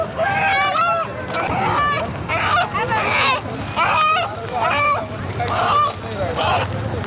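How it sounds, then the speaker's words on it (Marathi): A village desi rooster at a busy rural market gives repeated, loud, harmonic calls in bursts over steady crowd chatter and background noise. "तर मित्रांनो, हा बघा गावठी कोंबडा."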